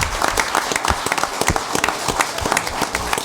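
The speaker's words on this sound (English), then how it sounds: "And you all deserve a round of applause too for participating in this program." An audience at a town council meeting claps, a lively close wash of many hands with crisp individual claps, steady throughout.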